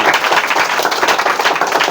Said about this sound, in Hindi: इनके लिए एक बार जोरदार ताली इसके लिए बजाइए